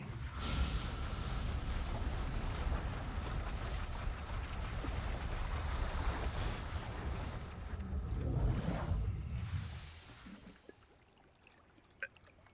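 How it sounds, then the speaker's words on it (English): Rushing, churning water roars steadily for several seconds as it drains in the video game Riven, swells briefly, then fades away to near silence with a few small clicks. "this one drains the water."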